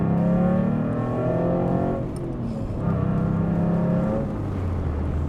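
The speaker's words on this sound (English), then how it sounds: "I want to hear a little bit of that Buso noise." Alfa Romeo GTV with its Busso V6 engine revving from inside the car with the window down, a strong rising engine note that dips briefly near the middle and then climbs again, loud and continuous throughout.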